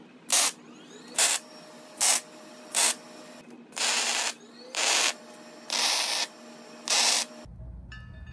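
A belt grinder grinds down a weld inside a slot on a steel magnetic chuck plate, heard as eight loud bursts of abrasive grinding separated by short pauses, close up, with no talking.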